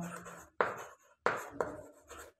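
Pen writing on paper during a math lesson, several short scratchy strokes in quick bursts separated by brief pauses, close and fairly quiet.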